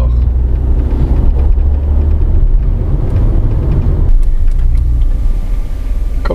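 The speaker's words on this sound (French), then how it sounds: "Elle accélère fort." A Peugeot 2008 car engine roars loudly with heavy low rumble, pushing steadily under load as the vehicle accelerates hard, the tone shifting partway through.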